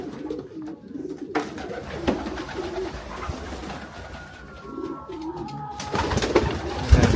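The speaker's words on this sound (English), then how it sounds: "You can see our pigeons" Pigeons cooing in pairs in an animal sanctuary enclosure, soft low coos repeating amid steady background bustle and other bird calls, growing slightly louder toward the end.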